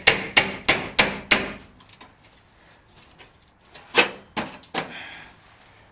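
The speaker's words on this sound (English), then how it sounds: "you'll want to use the chisel to bust through the remainder" Hammer blows on a chisel driving through spot welds in a car's steel floor pan: five rapid sharp metallic strikes, a quiet pause, then a few more ringing hits, close and loud with no speech.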